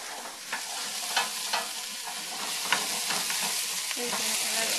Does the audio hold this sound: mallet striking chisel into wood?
no